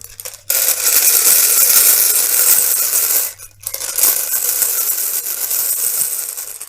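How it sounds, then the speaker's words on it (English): A deck of tarot cards being shuffled up close, two long rustling bursts of riffling cards separated by a brief pause, loud and alone. "I'm going to give this a good shuffle."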